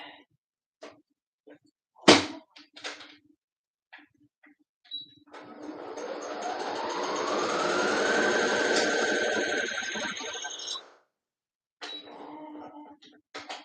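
A sewing machine stitches a seam in one steady run of several seconds, its whir rising in pitch as it speeds up, with scattered clicks and handling knocks before and after.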